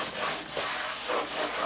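Light hand sanding on the finish of a wooden Shaker-style writing desk top, fine abrasive rubbing in steady back-and-forth strokes, close and soft, with no talking.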